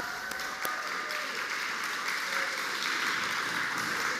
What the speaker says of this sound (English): Let's give Michelle one last round of applause.